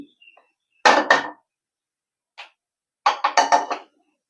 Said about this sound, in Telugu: చూడండి పాత్ర పెడుతున్నాను